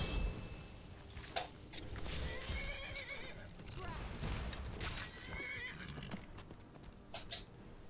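A horse whinnies several times over a busy Skyrim game soundscape, with hoof clops and faint talk mixed in.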